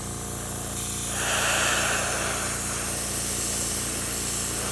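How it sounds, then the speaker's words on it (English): An airbrush sprays thinned model paint in a steady, close hiss that swells and holds over a constant background hum, with no talking. "Give it a test spray. Spraying pretty well."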